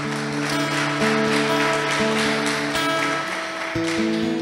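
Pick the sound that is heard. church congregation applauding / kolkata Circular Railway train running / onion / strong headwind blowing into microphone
church congregation applauding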